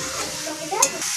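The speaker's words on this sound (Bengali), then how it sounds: "গরম মশলাটা দিয়ে আমি আবার ভালোভাবে মোচাটার সঙ্গে মিশিয়ে নেব।" Banana flower curry with garam masala in a pan gives a continuous close sizzle while it is stirred, with one brief scrape of a utensil near the end.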